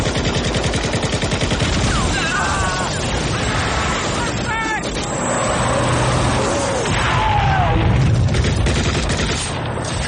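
Gunfire and explosions from the action film Rambo III, dense and continuous, with overlapping bursts, shouting and engine rumble throughout, and voices mixed into the chaotic battle soundtrack.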